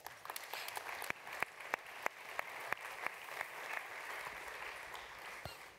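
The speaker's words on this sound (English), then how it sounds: "A round of applause for all of them" An audience at a summit panel discussion applauds the speakers, a fairly faint, steady patter of many hands with sharper individual claps standing out, heard from some distance in a large room.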